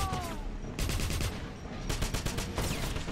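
Rapid bursts of gunfire crackle in quick succession with brief pauses, fairly faint, like a firefight in the video game Wolfenstein.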